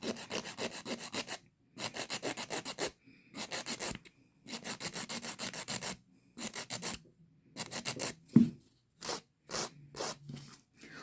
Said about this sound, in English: Be careful when you're rubbing the file against your guest nail